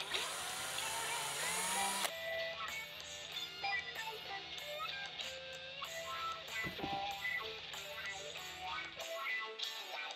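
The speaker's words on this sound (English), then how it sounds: "Drill your holes wherever you want to install your wheelie bar." A small drill bores holes into a Hot Wheels toy car to fit a wheelie bar. It makes short whirring bursts that start and stop, set over background music, and nobody speaks.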